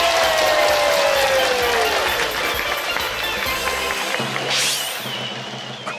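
A studio audience breaks into sustained applause and cheering to welcome the hosts of a price-guessing TV game show, steady and fairly loud throughout, with a rising electronic tone near the end.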